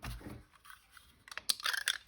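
A paper border punch with a note-paper design is punched along the edge of a sheet, giving a few sharp crunching clicks, louder toward the end, with no talk over them.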